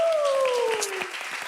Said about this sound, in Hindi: सो तालियां फॉर ईच एंड एवरीवन।